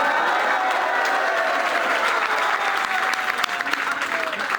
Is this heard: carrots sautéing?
no